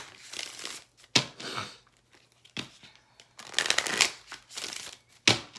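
Oracle cards are shuffled and riffled by hand close up in several quick papery bursts with short pauses between them.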